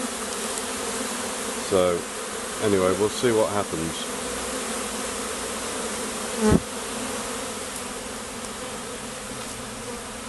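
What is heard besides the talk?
swarm of honey bees buzzing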